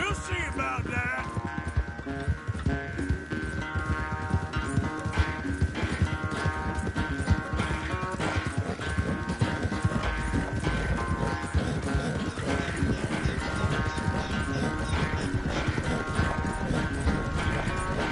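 Horse hooves clip-clop steadily in Red Dead Redemption 2, a continuous rhythmic ride heard under a dense orchestral score that runs throughout at an even, fairly loud level.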